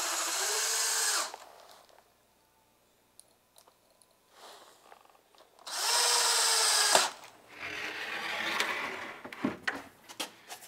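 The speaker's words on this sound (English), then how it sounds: "and drive some screws in" A power drill drives screws into a floor strip laid across a doorway of a mini theater booth, in two long whirring bursts separated by quieter handling clatter and short clicks, up close with no talk.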